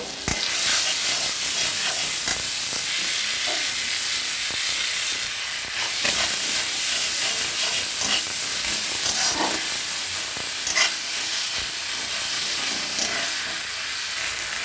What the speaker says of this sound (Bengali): ভালো করে কষিয়ে নিব। এর সাথে টমেটোটা দিয়ে একটু লবণ দিয়ে দিব সাথে।